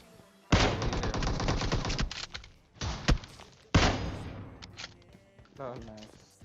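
Kar98 bolt-action rifle shots ring out in PUBG Mobile, several sharp loud cracks spaced a second or two apart, each with a decaying tail, mixed with in-game clatter.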